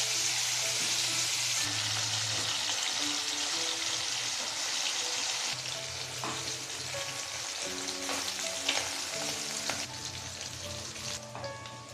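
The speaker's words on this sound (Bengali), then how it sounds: "এইভাবে আমরা প্রত্যেকটা মাছ ভেজে নেব" Small amudi fish crackle and sizzle in hot oil in a kadai, a continuous close frying hiss with scattered pops and spatters, no voices present.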